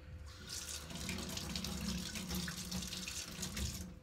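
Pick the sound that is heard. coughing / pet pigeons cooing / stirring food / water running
water running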